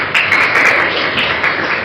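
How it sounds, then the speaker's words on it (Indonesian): A classroom of students clapping together in applause, a dense steady patter of many hands held at even loudness for a couple of seconds without any talking. "Kita tepuk tangan."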